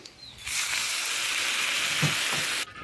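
Water poured onto a fried spice masala in a hot pan bursts into a loud, broad hiss and sizzle that starts abruptly, holds steady for about two seconds with a couple of bubbling pops, then cuts off.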